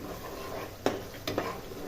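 Roasted coconut paste being stirred into a boiling gravy in a pot, with a low bubbling simmer and two brief scraping clinks of a spoon against the pan.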